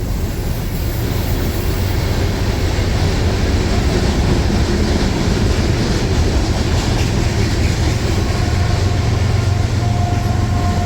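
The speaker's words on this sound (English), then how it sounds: "Shorter grain train. We do have an engine on the end." A short grain freight train with an engine on the end rolls past at Rochelle, a loud continuous roar and rumble of cars with wheel clatter that stays close for the whole stretch.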